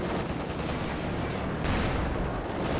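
Continuous dense battle din of gunfire and anti-tank cannon shots from a ZiS gun in the Company of Heroes 2 strategy game, loud and unbroken with a slight surge toward the end.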